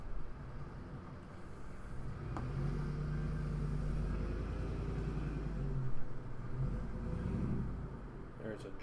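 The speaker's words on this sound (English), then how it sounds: "There's a giant truck turning around outside my window." A giant truck turns around outside a window, its deep engine drone rumbling steadily beneath a person talking nearby, rising briefly midway before easing off.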